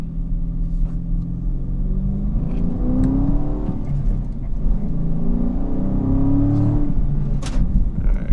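A 2016 Dodge Challenger SRT 392 with a 485-horsepower V8 accelerates, its deep rumbling engine rising and falling in pitch through the revs, loud and steady from inside the car.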